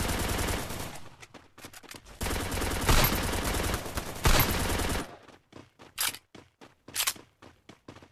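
Loud, sustained automatic gunfire in the mobile battle game Free Fire, with long continuous bursts giving way to a string of separate, spaced single shots.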